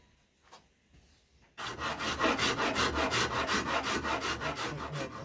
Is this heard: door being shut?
no